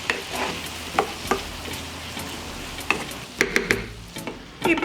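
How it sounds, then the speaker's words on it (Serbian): Vegetables frying with tomato and a clove of garlic are stirred in a pan, soft sizzling underneath several sharp scrapes and clinks of the utensil, some coming in quick clusters toward the end. "Sve ću promešati i pržiti još 5 minuta."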